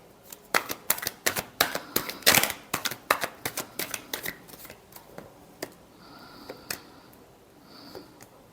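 A deck of tarot cards being shuffled, with a rapid run of crisp riffling snaps close by that thins into sparser taps and flicks, with no talking over it.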